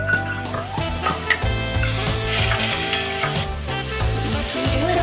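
Oil sizzling in a soup pot sounds as a soft, steady crackle beneath louder music with a strong rhythmic beat.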